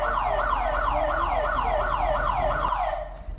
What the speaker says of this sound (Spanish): La alarma suena porque se escucha el audio